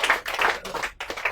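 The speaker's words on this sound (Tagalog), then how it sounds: "Palakpak man sila." Audience clapping in a church gathering, a quick patter of hand claps in rhythmic bursts, fairly faint and brief.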